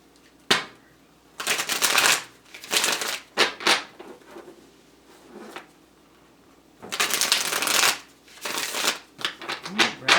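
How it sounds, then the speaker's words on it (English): Tarot cards shuffle in several quick riffling bursts, close and crisp, separated by quieter pauses with soft handling noises. "We'll get 3 shuffles and then we'll get some cards."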